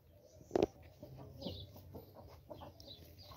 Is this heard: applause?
no